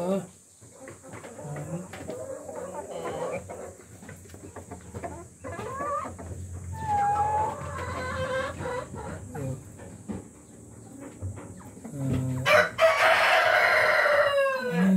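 Rhode Island breeder chickens on a farm cluck and murmur close by, with a loud rooster crow bursting out near the end, while people talk over the flock.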